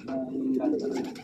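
Racing pigeons coo in a loft, several low, throaty, warbling calls overlapping close by across a brief moment, with faint human voice sounds mixed in.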